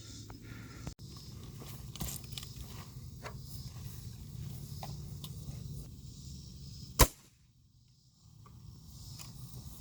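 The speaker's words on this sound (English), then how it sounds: "Next we have the pellet gun, so we'll see how that does." A stout pellet gun fires a single sharp, loud crack near the seven-second mark, standing out against quiet outdoor background rustle, followed by a brief hush.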